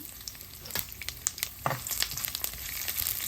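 Mustard, fennel and fenugreek seeds tempering in hot oil for a pumpkin and lentil curry, a loud, close sizzle with bright crackles and pops that builds into a steady fry.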